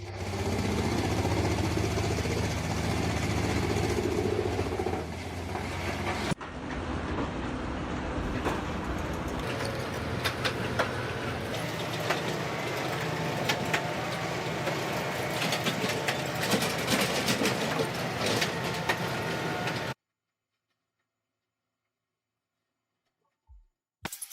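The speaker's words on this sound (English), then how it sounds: "That wood chipper doesn't just eat wood, it devours it, like it's been fasting all weekend and Monday finally arrived." Wood chipper shredding material: a dense, loud, grinding mechanical roar runs steadily for about twenty seconds with a shift partway, then cuts abruptly to silence with a brief knock near the end.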